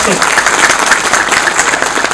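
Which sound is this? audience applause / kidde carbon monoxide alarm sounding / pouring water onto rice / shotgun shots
audience applause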